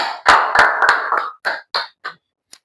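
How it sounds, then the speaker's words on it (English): Short, sparse clapping from a small audience at a pharmaceutics lecture welcoming the next presenter: a brief cluster of claps that thins into a few scattered single claps before silence. "with a round of applause, please let's welcome our next presenter"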